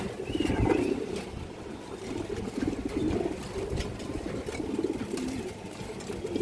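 Pigeon cooing from a large, high-quality female pigeon of a strong bloodline, a low steady murmur that carries through the whole stretch amid other birds and faint background noise, with no talking.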